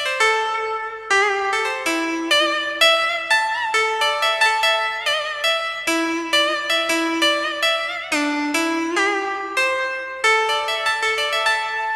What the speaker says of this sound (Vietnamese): tiếp theo mình sẽ cho mọi người nghe thử một tiếng tranh nha.